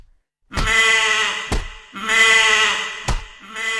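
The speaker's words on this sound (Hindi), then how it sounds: "बकरा" A goat bleats loudly and close in two long, wavering cries, each preceded by a sharp knock, as a sound effect in a Hindi story.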